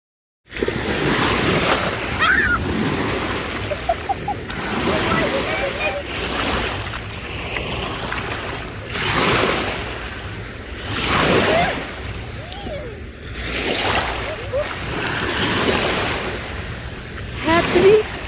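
Waves wash in at the water's edge in surging bursts every few seconds, broad and fairly loud, mixed with wind buffeting the microphone over about eighteen seconds.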